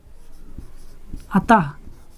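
Pen strokes writing out a math solution for a quadrilateral angle problem, faint scratchy ticks up close, followed by a brief spoken sound.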